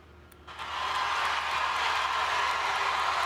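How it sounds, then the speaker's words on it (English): A large crowd at the University of Buffalo bursts into sustained cheering and applause, a dense, continuous roar that swells abruptly after a brief quieter moment and holds steady, heard from a distance with no single voices standing out. "Do you hear that crowd?"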